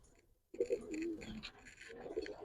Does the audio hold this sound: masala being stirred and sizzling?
no